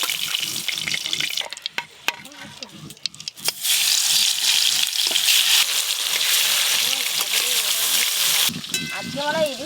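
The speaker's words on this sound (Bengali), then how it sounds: "ইলিশ মাছ খুব কড়া করে ভাজতে হবে নি, হালকা করে ভেজে নিলেই হবে।" Hilsa fish frying lightly in a pan, a broad steady sizzle with clinking of utensils and running water, while someone talks over it throughout.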